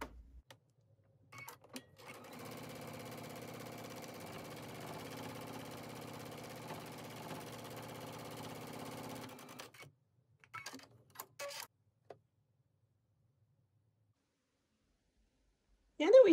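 Home sewing machine top-stitching quilt sashing, a steady mechanical whirring run for several seconds, then a few short stitching bursts before falling quiet.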